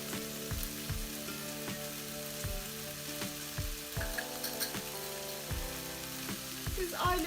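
Bulgur toasts in about two tablespoons of olive oil in a pot, giving a steady, even sizzle with soft, regular scraping thuds from stirring throughout.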